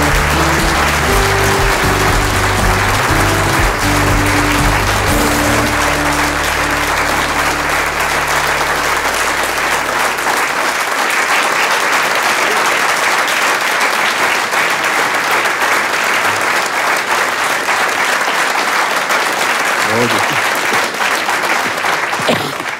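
A concert audience at a show in Malostranská beseda bursts into loud, sustained applause, dense clapping filling the room over the tail of the music and continuing steadily throughout.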